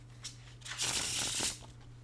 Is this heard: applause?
no